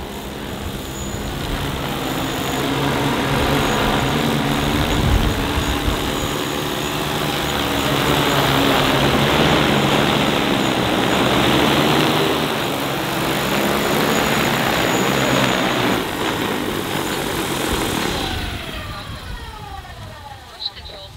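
A DJI Agras T20 agricultural spraying drone flies back over a field with a loud, steady propeller buzz that swells and then fades toward the end, while people talk nearby.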